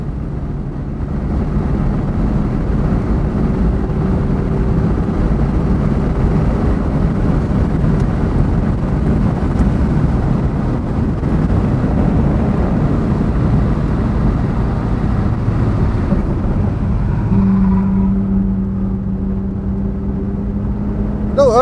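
A Mazda race car engine roars continuously at high speed on a race track from a moderate distance, with wind buffeting the microphone and a brief tonal change near the end.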